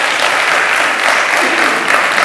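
Dense, steady applause fills the whole stretch, many hands clapping at once without a break.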